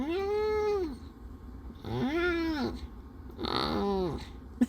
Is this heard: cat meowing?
yes